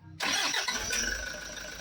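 A Toyota Hi-Ace engine cranks briefly and catches on the first try, settling into a steady, loud idle close by with no talking.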